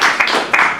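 Brief burst of clapping from a press-conference audience in Naples, greeting a documentary director present in the room; dense, fairly close applause with a few sharper surges and no one speaking over it.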